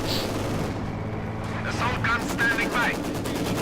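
Light machine gun fire from grenadiers in the video game Company of Heroes 2, bursts of gunfire and battle noise under a commentator's continuous voice.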